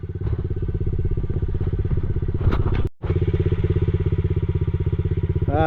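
Motorcycle engine revving hard and steady close by during an off-road trail ride near a hill climb in Chinchilla, Queensland, with a brief clattering thump and momentary drop before the engine roars on.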